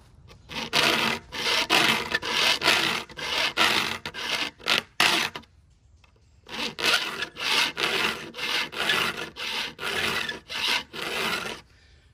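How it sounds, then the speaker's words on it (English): Rhythmic rasping strokes of a freshly sharpened vintage handsaw cutting through wood, close by, with a brief pause midway before the steady back-and-forth sawing resumes. "You can hear the difference in pitch as the saw flexes less."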